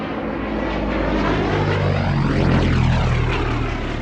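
A Gloster Gladiator biplane, the last Mark I built, passes overhead at an evening air show, its piston engine and propeller droning loudly and sweeping in pitch as it comes nearest and then moves away.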